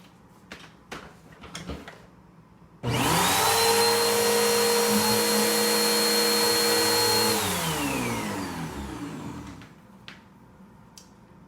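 A Philips vacuum cleaner, just fitted with a replacement power cord, switches on with a sudden loud whine, runs steadily for several seconds, then spins down, after a few handling clicks.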